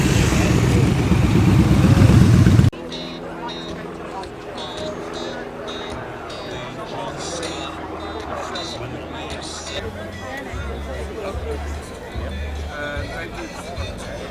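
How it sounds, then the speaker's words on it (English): Classic motorcycles, among them an old 1950s Ariel with a sidecar, arrive at an outdoor vehicle show, their steady engine rumble running under crowd babble and nearby talk after a louder opening burst. "And a load more bikes coming in now."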